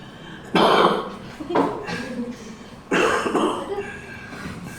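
A smoker's harsh, heavy coughing in two fits, each a burst of raspy hacks trailing into rougher throaty coughs, close and fairly loud.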